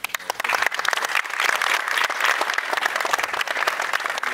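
Audience applause at a basketball event after Under Armour gave the players T-shirts and basketball shoes: dense, steady clapping from a crowd that carries on unbroken, with sharper individual claps standing out now and then.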